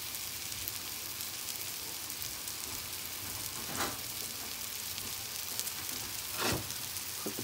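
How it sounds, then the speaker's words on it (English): Steak fries in a hot pan with a steady broadband sizzle and crackle throughout, with a couple of brief louder spatters, no speech. "So this way you can be sort of cooking the steak both sides at the same time"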